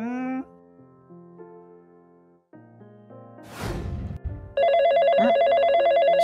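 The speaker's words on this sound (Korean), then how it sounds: "전화가 왔네." A ringing telephone in a Korean Minecraft role-play skit sounds with a loud, steady electronic trill that starts suddenly after a whooshing transition and keeps going to the end.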